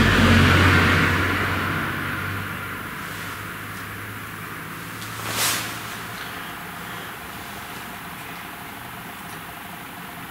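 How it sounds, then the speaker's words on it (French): A car passes in the background, its low rumble loudest at the start and then fading away, leaving a quiet hush with one brief sharp click partway through. "Bruit parasite, voiture."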